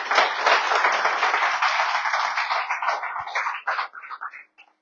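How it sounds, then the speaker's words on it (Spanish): A church congregation breaks into loud, dense applause that holds steady for several seconds, then thins into scattered claps and fades out. "Denle un aplauso fuerte a Dios por eso."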